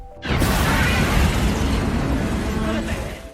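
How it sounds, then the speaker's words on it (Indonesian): A ship hit by cannon fire explodes in a film: a sudden loud explosion bursts in and rumbles on as a sustained roaring blast, with debris-like crackle fading slightly toward the end. "tembakan meriam, sehingga membuat kapal GDS meledak dan hampir tenggelam"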